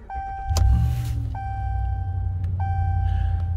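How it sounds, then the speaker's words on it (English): A 2017 Ram 1500 Big Horn pickup starts up from inside the cabin: a brief crank catches into a steady low idle, with repeated dashboard chimes ringing over it. "so I'm going to go ahead and start it up."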